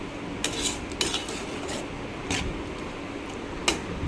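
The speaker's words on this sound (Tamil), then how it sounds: "கொஞ்சோண்டு ஆட் பண்ணிவிட்டு நல்லா மிக்ஸ் பண்ணி விடுறேன்" A spoon stirs chicken gravy with a little added water in a metal pot, giving a few scattered scrapes and clinks against the sides over a steady low background.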